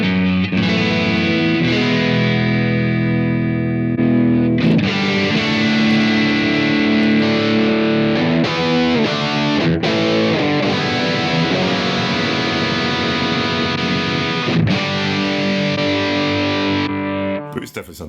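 Distorted electric guitar through a Blackstar Amped 2 amp plays sustained chords and riffs, loud and continuous, with a voice speaking briefly over it near the end.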